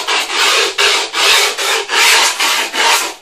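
A file rasps along skateboard deck edges through grip tape in six loud, rhythmic back-and-forth strokes, a harsh scraping close up with brief gaps between strokes.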